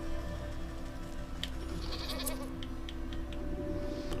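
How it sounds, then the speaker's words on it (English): A goat protesting while being sheared in the video game Wytchwood, bleating over a steady musical background, with a few brief sharp clips and clicks scattered through. "With much protesting and a nicked ear, you shear away clumps of dirty hair from the goat's eyes."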